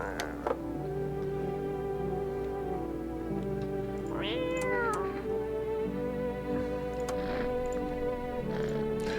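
A cat meowing in the video game No, I'm Not a Human, a couple of drawn-out meows over a steady bed of game music and low hum, with scattered clicks.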